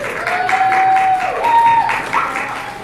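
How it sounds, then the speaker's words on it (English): Audience applause at a church gathering, loud and sustained clapping filling the room, with a faint tonal squeal running through part of it. "Give her a big round of applause."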